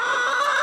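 Hens newly brought home to a homestead give a brief burst of close, clear clucking.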